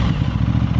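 A 600cc super sport motorcycle fitted with an aftermarket exhaust gives a loud, thumpy, rapid engine pulse at close range, heard alone.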